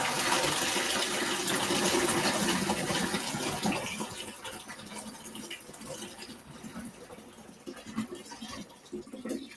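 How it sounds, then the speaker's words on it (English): Grape juice pours steadily into a 6 gallon plastic winemaking bucket, a loud continuous liquid gush near the mic that softens and thins after a few seconds as the flow eases. "So now what I'm gonna do is I'm gonna put the juice inside the bucket."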